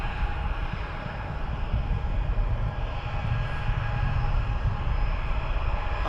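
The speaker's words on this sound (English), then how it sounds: "That's a Ryanair 737." A Ryanair Boeing 737 jet at Luton Airport gives a steady, fairly distant roar with low rumble, holding at an even level throughout with no voices.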